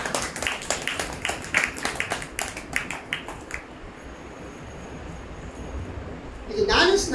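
A congregation claps together at a church service, a burst of loud rhythmic hand claps in the first few seconds that fades into quiet room noise, with a brief voice near the end.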